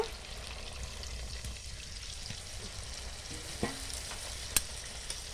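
Chicken masala made with chicken spare parts and potatoes, cooked village style, sizzling steadily in a pan after a little water is added, with a low continuous hiss and a few faint clicks near the end, no talking.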